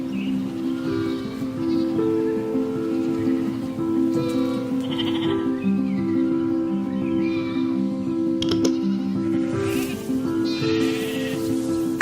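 Galway sheep, a native Irish breed, bleat repeatedly in a close flock, several overlapping calls over a steady pad of background music.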